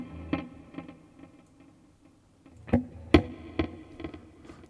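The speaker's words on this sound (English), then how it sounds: "Let's do kind of a digital reverb." An electric guitar played through a digital reverb effect gives sparse plucked notes, each followed by a decaying reverberant tail, with a louder cluster of notes near the end.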